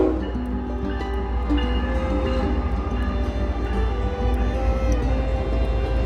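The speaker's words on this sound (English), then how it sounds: "Now, this sounds like a cargo train." A heavy cargo train rumbles past on the Appalachian Trail, loud and continuous, with a deep low drone and steady mechanical noise.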